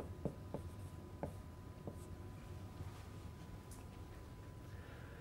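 Chalk or marker tapping and scraping on a board during a math lecture on iterated integrals, a few sharp light taps early on, then faint, low-level room sound.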